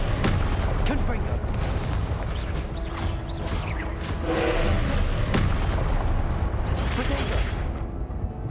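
Fire-spell blasts burst out repeatedly in the Hogwarts Legacy video game, a series of sharp booms and crackles mixed with spell effects while a person talks over the action.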